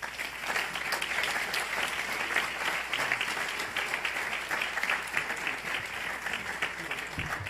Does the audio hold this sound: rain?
no